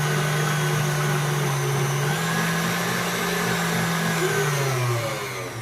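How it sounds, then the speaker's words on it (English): An electric mixer with a whisk attachment whips cream on high, a loud steady motor whine and whirr that holds pitch and fades slightly at the end. "And, with the whisk attachment. And put it on high and whisk it."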